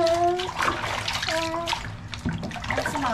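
Bathwater sloshes and splashes in a bathtub during a small child's bath, with soft trickles and swishes close by and faint voices mixed in.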